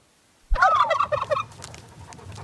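Turkeys gobble in their pen on a farm, a loud burst of rapid, rattling gobbles starting abruptly, fading into quieter background clucking and rustle.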